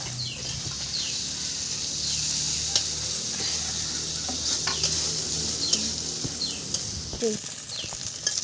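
Deboned fish pieces for fish fingers frying in a pan, a continuous moderate sizzle with scattered crackles and pops, faint voice in the background.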